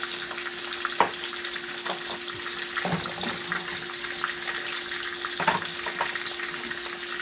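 Hamburger steak patties fry in a pan with a constant, moderately loud sizzle and crackle, broken by occasional close clatters and taps of a utensil.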